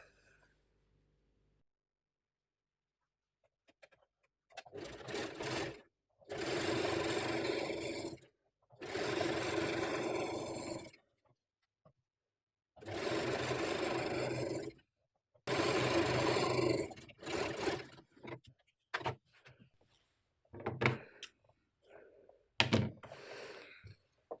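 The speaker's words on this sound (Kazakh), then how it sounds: "Ұзындығынан тігіп шығамыз." A sewing machine runs in several steady bursts of a few seconds each, separated by short pauses, as it stitches the long seam of a fabric turban, close and fairly loud.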